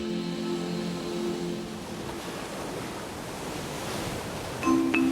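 Ocean waves on the Indian Ocean coast make a steady broad wash of surf, moderately loud and continuous, with a soft tonal hum underneath and no voices.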